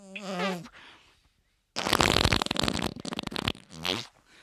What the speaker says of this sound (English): that was one of your well-known liquid farts